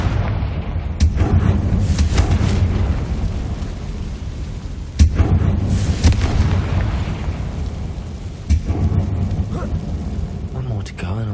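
Confringo spell explosions in the Hogwarts Legacy video game, three sharp booming blasts spaced a few seconds apart over a dense, continuous low game rumble.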